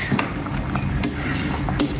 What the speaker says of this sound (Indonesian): sambil kita aduk kata mamah diaduk terus